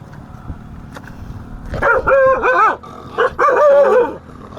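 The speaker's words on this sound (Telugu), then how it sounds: "కుక్కలు అయితే" A dog barks in two quick bursts of several yelping barks, close and loud, with faint background noise between.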